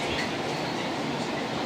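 A tram rolls past on an Amsterdam street with a steady, loud rumble of wheels on rails that holds evenly throughout, and no voices are heard.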